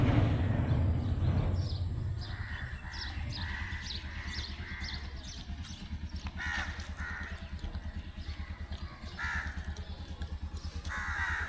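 Crows caw repeatedly around a house where stray puppies are fed, loud harsh calls in uneven bursts over a steady low background rumble.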